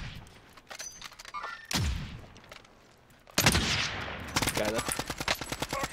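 Heavy automatic gunfire in Warzone, a sniper battle: bursts of rapid shots, some near and booming, others in dense rattling volleys, with a brief voice over them.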